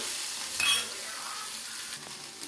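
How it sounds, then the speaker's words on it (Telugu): Tomato pieces fry in a pan for a South Indian chutney, giving a steady close sizzle with one brief louder crackle and faint stirring scrapes near the end. "అలాగే టమాటా ముక్కలు కూడా వేసుకొని బాగా ఫ్రై చేసుకోవాలి"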